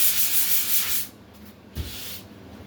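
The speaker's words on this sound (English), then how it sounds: "you just want to take your sanding sponge." A sanding sponge rubs over dried drywall joint compound in steady, close strokes for about a second, then stops, leaving a quieter pause with a faint scrape near the end.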